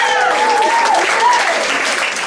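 Comedy club audience applauding, a dense continuous wash of clapping with voices cheering and calling out over it, loud and close for a couple of seconds.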